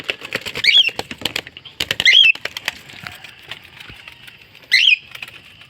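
A cockatiel flaps its wings in flight in three short bursts, close and fairly loud, with quiet rustling between them.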